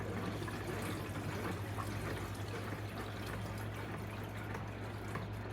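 Water pours steadily into a coffee maker's reservoir, a soft continuous splashing stream over a low background hum, faint and unbroken with no talk.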